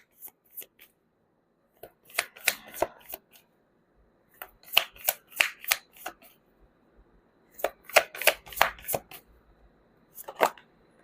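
Tarot cards riffled and shuffled in several quick bursts of crisp, papery flutters, separated by short pauses, close and fairly quiet with no talking.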